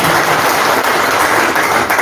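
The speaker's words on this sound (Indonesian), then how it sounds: "Boleh berikan tepuk tangan yang meriah buat Bapak Kapolri" A seminar audience applauds Bapak Kapolri with dense, loud, continuous clapping throughout.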